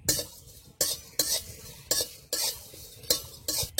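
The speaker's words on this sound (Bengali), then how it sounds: "এখানে 4টে শুকনো লঙ্কা আছে, ছিঁড়ে ছিঁড়ে নিয়েছি, এখন দিয়ে দেব।" Four torn dried red chillies fry in a pan for a spiced vegetarian jackfruit curry, with a soft sizzle under repeated sharp scraping strokes of a spatula against the metal pan.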